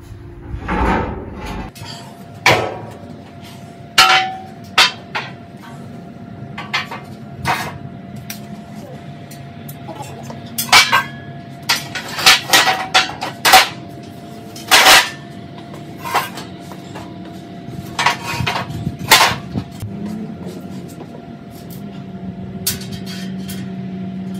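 Metal hot rod frame pieces being laid out and fitted together in a workshop, with scattered sharp clanks, knocks and rattles of steel parts and tools at irregular intervals, some close and loud, over a low background hum.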